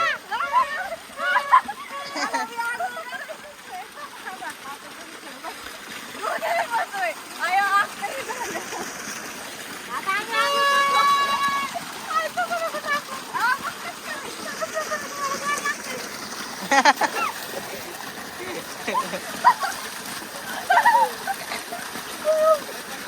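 Children splash and play in water outdoors, with sloshing and spattering under lively, overlapping voices and occasional shrill calls.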